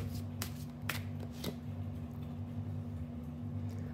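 Oracle cards from a sacred rebels deck are shuffled in repeated soft riffling bursts, close and fairly quiet, over a steady low electrical hum with no talking.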